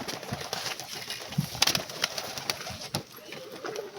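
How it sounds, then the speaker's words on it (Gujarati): Pigeons at a farm coo softly amid steady outdoor background noise, with a brief low coo standing out and scattered faint bird sounds, and no one speaking. "આ રીતના કંઈક આપણા કબૂતર છે."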